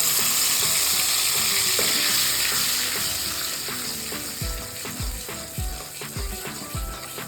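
Tomato paste fries in hot oil with nigella seeds, hissing loudly and steadily at first, then easing as rhythmic spoon scrapes and bubbling pops join in near the end.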